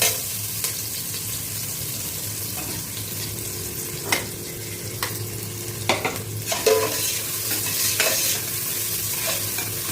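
Two large onions and green chillies, sliced lengthwise, sauté in oil in a pan for mushroom biryani. A steady sizzle runs throughout, broken by scraping stirs and clinks of a spoon against the pan.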